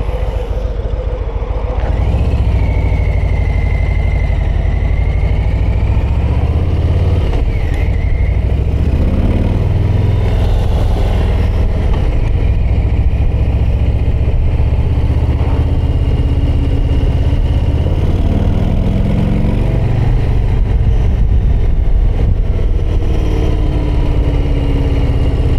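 Harley-Davidson Low Rider ST motorcycle being ridden, a loud continuous low engine rumble with rising and falling revs and steady wind noise throughout.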